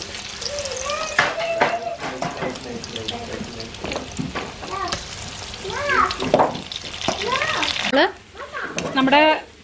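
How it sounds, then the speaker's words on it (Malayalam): Marinated paneer fries in a pan with a steady, close sizzle and occasional stirring clatter, while voices come and go over the frying. "ജസ്റ്റ് ഒന്ന് വറുത്തെടുക്കാം."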